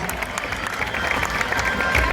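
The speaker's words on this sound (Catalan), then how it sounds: "Un aplaudiment, culers!" Barça fans at a women's Champions League final against Olympique de Lyon in Bilbao clap together in a dense burst of applause, crowd noise close and loud with voices mixed in.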